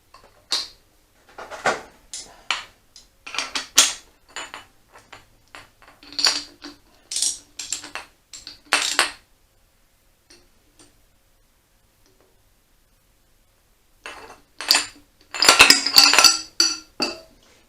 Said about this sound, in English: Tighten it all down.